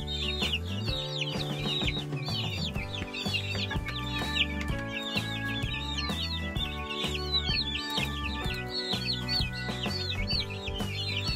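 Hens kept with roughly three-week-old chicks cluck repeatedly in short bursts, fairly close, over a busy background of other bird chirps and a steady hum, with no talking.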